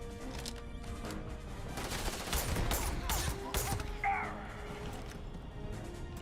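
Gunfire in the Starfield video game, a dense burst of rapid shots and impacts through the middle of the clip, loud against quieter game ambience.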